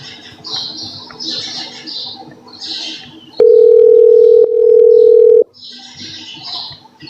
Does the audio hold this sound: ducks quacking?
no